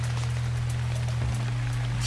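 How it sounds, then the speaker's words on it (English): Rain falls in a medieval-style building video game, a soft steady patter over a constant low hum, with faint scattered drop ticks. "And here comes the rain."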